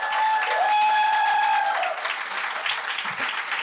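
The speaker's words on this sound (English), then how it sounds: "Another round of applause for that performance" An audience applauds steadily after a poetry performance, with sustained dense clapping from a sizable crowd throughout and no talking.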